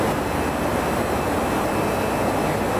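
Simulated jet engine noise from a Toliss A321 in the X-Plane 11 flight simulator on a night flight, a steady broadband roar with a low hum, unbroken and without talk.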